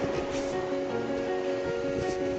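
Ocean waves on a rainy coast at Real, Infanta, Quezon, a continuous rushing wash of surf with a steady hum running underneath, no voices.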